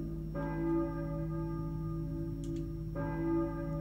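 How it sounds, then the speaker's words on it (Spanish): A deep church bell tolls in the Silent Hill PlayStation game, two slow resonant strikes each ringing out with a long humming decay over a low ambient drone. "Eso es, se oye una campana."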